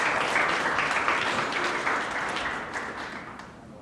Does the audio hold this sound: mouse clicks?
no